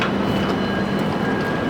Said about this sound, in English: That was a train, Eurostar train they've just caught.